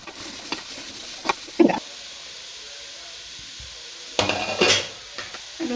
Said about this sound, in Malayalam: നമുക്കിനി അരിഞ്ഞു വെച്ചിരിക്കുന്ന ക്യാരറ്റും ബീറ്റ്റൂട്ടും ഇതിനുള്ളിൽ കിടക്കാം.